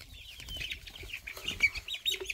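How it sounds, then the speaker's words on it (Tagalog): Chickens on a rural Philippine chicken farm, several birds clucking and squawking in short overlapping calls with a bit of wing flapping, fairly close and steady throughout. "Chicken farm."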